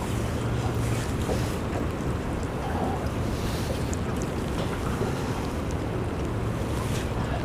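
Wind blows steadily across open water from a boat, a continuous loud rush of microphone buffeting over lapping waves, with no voices.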